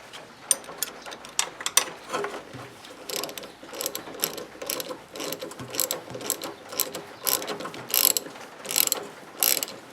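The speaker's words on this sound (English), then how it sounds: "So when I tighten this down, it should hopefully draw the old bush into the socket." A ratchet wrench cranks a nut to draw an old shifter bush into its socket on a Toyota MR2 gearbox linkage, rapid clicking strokes in repeated bursts, close and fairly loud, without speech.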